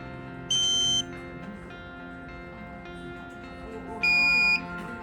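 An ASC controller's high-pitched electronic alarm beeps in two sustained bursts, each about half a second long, over a steady mechanical hum, during a factory reset.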